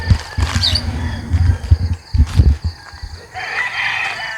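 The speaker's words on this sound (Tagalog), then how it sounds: "Bali si Boss Joey naglilipat ng ibang manok dito sa kabilang side na to." A rooster crows loudly and close among a flock of chickens being moved to another side of a pen, with clucking and scuffling around it and a second, softer crow trailing off at the end.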